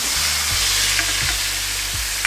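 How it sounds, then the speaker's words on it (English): Steak sizzling steadily in a pan with melted butter, garlic and rosemary, loud and close, with rhythmic spoon scrapes as butter is basted over the meat. "just bathe it in butter"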